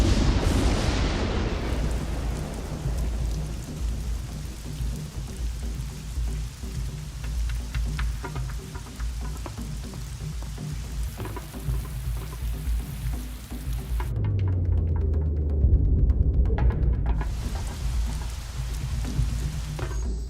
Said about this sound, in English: With the Amazon's almost daily rainfall and high humidity